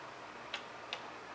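An early Black Forest Biedermeier cuckoo clock by Theodor Ketterer of Furtwangen gives two faint, crisp ticks spaced about a half-second apart against a quiet room hum.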